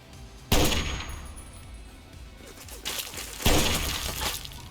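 Sniper rifle fired in the Fallout 3 video game: two loud, sharp cracks about three seconds apart, each trailing off in a ringing, crashing decay over quieter background noise.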